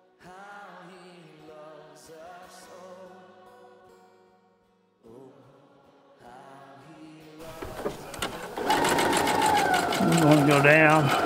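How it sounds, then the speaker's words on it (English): Domestic sewing machine straight-stitching a dress seam past elastic, a steady mechanical whir in bursts with brief pauses, growing louder and busier toward the end, with a person talking over it. "Go down, pass the elastic, come back with a straight stitch."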